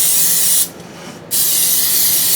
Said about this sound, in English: I'm going to start with some spray to make it easier to pull out and clean.